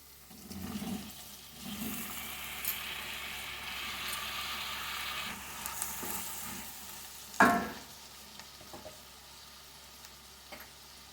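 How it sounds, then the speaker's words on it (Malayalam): Chopped tomatoes frying with softened onions in a pan, a steady close sizzle with stirring scrapes and a sharp clatter midway, no talking. "ഇനി നമുക്കിതിലേക്ക് തക്കാളി ചേർത്ത് കൊടുക്കാം."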